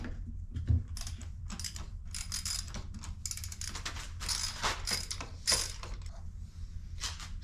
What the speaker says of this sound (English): Once you wiggle them out of place, you're gonna need an extension for your socket to get up in there